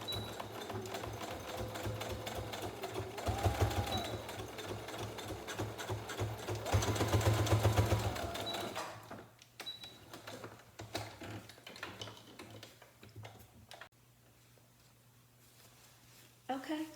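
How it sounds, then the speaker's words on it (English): A sewing machine stitching a paper towel face mask, steady mechanical stitching runs near and loud, stopping midway, with someone talking over and between them. "you want to make sure that you sew above the ravel part"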